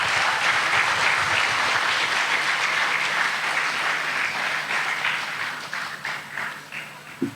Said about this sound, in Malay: Jadi mari kita raihkan tetamu kita yang amat berbahagia Tan Sri Muhyiddin Yassin dan yang amat berbahagia Puan Sri dengan tepukan yang gemuruh untuk mereka.